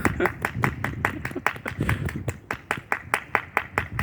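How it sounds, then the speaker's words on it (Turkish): People clap in a sharp, rhythmic beat at a marriage proposal, the claps getting more evenly spaced and crisper toward the end, with faint laughter under them. "Gençler alkış"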